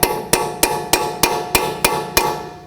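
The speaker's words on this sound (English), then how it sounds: "with a small hammer, tap on the end of the stud." Eight sharp metallic taps from a small hammer striking the end of a stud on a 2005-2010 Pontiac G6 front knuckle, at a steady, even rhythm, each ringing briefly before the next.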